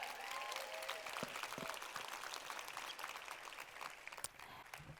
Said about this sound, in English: Yes, you can clap it up.